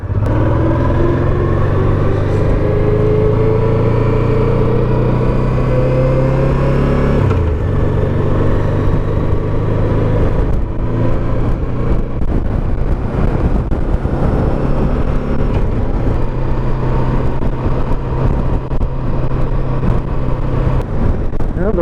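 Heavy wind roars over a steady engine drone while a Honda NT700V motorcycle rides around a lake on a cold winter day, loud and continuous throughout with no clear talking.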